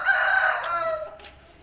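Aseel rooster crowing once, a single drawn-out call that starts strong and tapers off over about a second, close and clear with little else around it.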